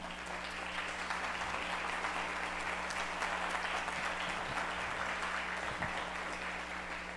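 Audience at the inauguration of a smart-cities event applauding a presidium guest, a steady, even wash of many hands clapping, distant and soft, with a constant low hum underneath.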